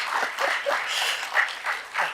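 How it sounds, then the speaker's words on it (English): A conference audience at a public health event in Africa claps for a speaker, uneven clapping that swells and dips in several waves over a couple of seconds, moderately loud with no speech. "Next, round of applause, please."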